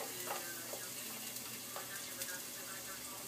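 Garlic dropped into a pan of sautéing onions for homemade spaghetti sauce, giving a steady, close crackling sizzle with soft ticks and pops throughout.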